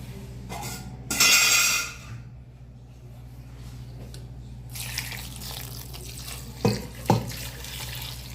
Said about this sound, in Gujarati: થોડું પાણી નાખવાનું છે.